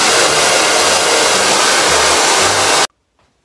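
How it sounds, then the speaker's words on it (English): A hair dryer blows with a loud, steady broadband whoosh for almost three seconds, then cuts off abruptly into near silence. "I blow dry my hair with this hair dryer and it's amazing."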